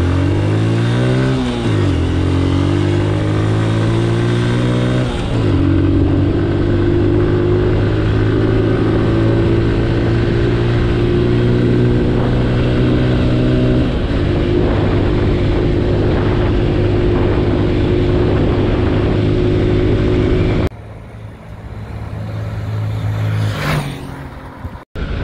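Honda Wave 110 S motorcycle engine heard while riding, a loud continuous drone with gear-shift steps and a falling pitch as it engine-brakes, then wind rush near the end.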